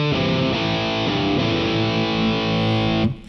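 Heavy distorted electric guitar chords ring through a Master Effects Martyr distortion pedal, a few sustained, saturated strums played loud and close before cutting off near the end.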